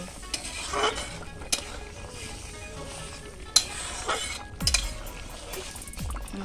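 Pangas fish curry with taro being stirred in a pan, a low steady simmer broken by occasional scrapes and clinks of the spoon against the metal.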